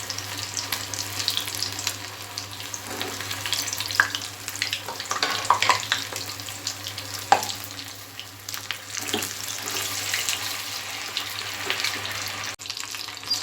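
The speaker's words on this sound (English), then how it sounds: "So I'm cooking this, frying this chicken on low flame only" Chicken pieces fry in a pan over a low flame, giving a steady, soft crackling sizzle with scattered pops and the odd clink throughout.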